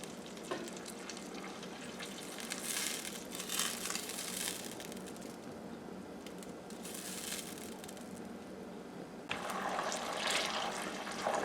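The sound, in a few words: butter heating in a tall pan to make ghee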